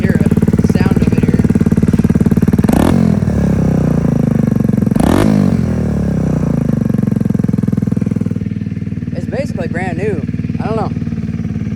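A motorcycle engine is cranked over and revved, running steadily and loudly with several sharp throttle blips rising and falling over a constant idle rumble; a voice speaks briefly near the end.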